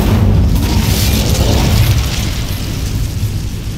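The Incendio fire spell in Hogwarts Legacy sets off a loud, close, roaring burst of flame that rumbles on steadily and then slowly fades.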